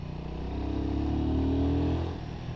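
Royal Enfield Guerrilla 450 motorcycle being ridden, its engine droning steadily and rising in pitch as it accelerates, then easing off, heard close with wind noise.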